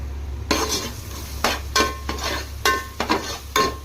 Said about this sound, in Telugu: ఇది పచ్చి వాసన పోయే వరకు ఫ్రై చేసుకుందాం.